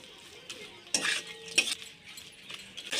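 Fried oyster mushrooms tossed into a chili sauce and stir-fried, soft sizzling under a few sharp metallic scrapes and clinks of a spatula against the pan, fairly quiet between strokes.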